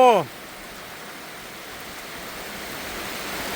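Heavy out-of-season rain pours as a steady, dense hiss that fills the whole stretch at an even loudness, following a brief voice at the very start.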